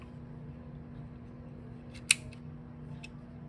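Wire cutters snip the legs off a small electronic component while a TV-B-Gone kit is prepared, giving one sharp, close click over a quiet steady hum, with a faint second tick shortly after.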